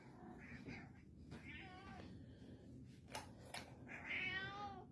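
A pet cat meows indoors several times in short, close cries, one rising into a longer wavering call near the end, with no talking over it.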